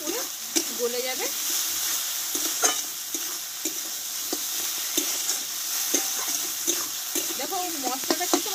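Onion and tomato masala being stir-fried in a pan, a steady sizzle under repeated scraping strokes of a spatula, with a few soft scattered knocks.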